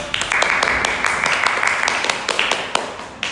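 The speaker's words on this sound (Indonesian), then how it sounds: "Tepuk tangan dulu." Students clap together in a classroom, a dense patter of many hands that runs steadily for a few seconds, fairly close and loud, with some voices mixed in.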